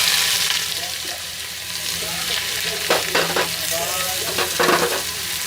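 Chopped onion with cumin sizzles loudly in a hot pan for aloo paratha filling, a steady close frying hiss with a few scraping stirring strokes near the end.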